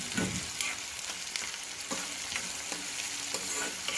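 Onions fry in oil for dahi chhole, a continuous soft sizzle broken by repeated scraping strokes of a spoon stirring the pan, fairly quiet and close, with no voices.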